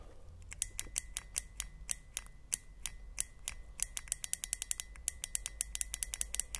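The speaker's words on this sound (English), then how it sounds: "you'll hear the injector click here" A car fuel injector on a workbench clicks sharply each time a battery energizes it, irregular close taps that quicken into rapid bursts toward the end, with no talking.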